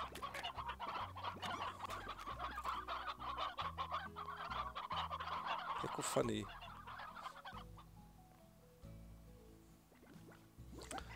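Chickens clucking in the video game Slime Rancher, a busy cluster of repeated clucks near and loud, fading out toward the end under a brief spoken word.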